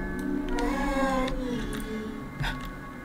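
A small cat in the video game Baby In Yellow gives a few short meows over a soft, droning game ambience.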